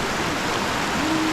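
Knee-deep river water rushes around someone wading across on foot near an Indonesian waterfall, a loud, continuous close roar of flowing water, with a brief high tonal whistle near the end.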